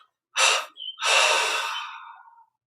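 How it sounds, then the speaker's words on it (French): Guided meditation breathing: a deep exhalation let out in three parts, a first strong breath burst, a brief catch, then a long airy outflow tapering away, close and alone in silence. "une expiration en 3 fois"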